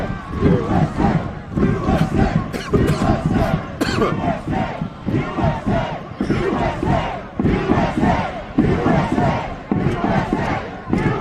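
A large, dense protest crowd outside the U.S. Capitol during a lockdown roars and shouts continuously, rising in waves of yelling and chanting close by.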